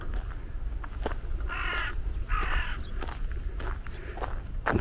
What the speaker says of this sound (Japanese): カラスくん騒いでるのかな。